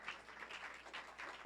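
A church congregation claps together in a faint, continuous wash of applause that swells and dips in uneven waves, with no single clap standing out.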